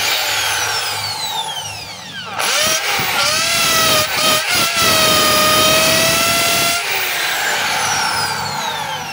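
A DeWalt DWD024 1/2-inch hammer drill runs in hammer mode, starting with a rising whine, then a loud, steady buzzing rattle with brief dips before spinning down and revving again close by.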